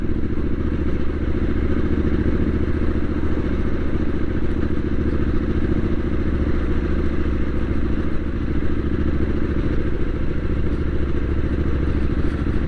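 Triumph Street Scrambler 900 motorcycle on the road, its twin engine giving a continuous loud, even drone with wind rush and clattery mechanical texture, heard up close with no talking.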